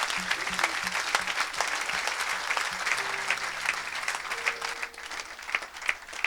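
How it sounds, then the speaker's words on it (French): A church congregation breaks into sustained applause for the Lord, a dense wash of many hands clapping at moderate distance, with faint musical tones underneath and no clear speech. "Quelqu'un acclame le Seigneur."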